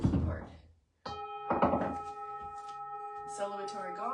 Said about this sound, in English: Celebratory gong, have some water.